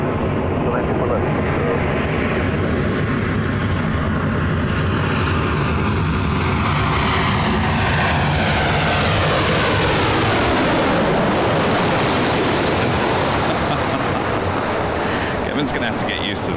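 An airliner on approach to land on runway 24 left at LAX, a loud, sustained jet engine roar that swells and sweeps in pitch as it passes close overhead, with a voice talking over it.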